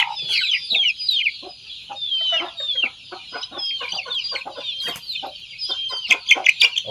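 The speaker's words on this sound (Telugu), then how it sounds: "ఇవన్నీ కూడా భీమవరం కోడిపిల్లలు, భీమవరం రిచ్చాటం కోడిపిల్లలు." Many young Bhimavaram country-breed chicks cluck and peep continuously in a dense, overlapping chorus, some calls rising louder near the end, with no talking.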